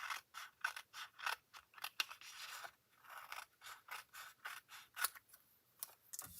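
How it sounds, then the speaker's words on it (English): Designer series paper being trimmed with a paper trimmer, a quiet close run of quick, rhythmic cutting and clicking strokes, alone without talk. "And then I'm just going to trim it this way."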